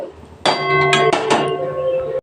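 Dry-roasted panch phoron spices crushed with a steady, loud tonal grinding whir that starts abruptly and runs continuously to the end, with no talk.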